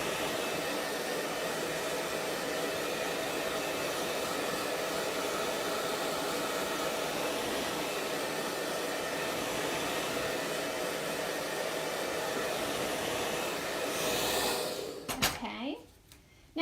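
A hair dryer blows steadily and loudly over drying wallpaper paste for about fourteen seconds, then cuts off abruptly, leaving a few brief rustles and clicks.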